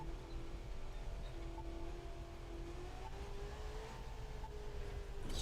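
A steady car engine in a video game drones at moderate volume, its pitch holding then creeping slightly upward as it revs, with no voices.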